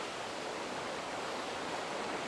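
The Brantas river flows below a footpath at the historic Ngawonggo bathing site, giving a steady, uniform rushing wash of water with no breaks.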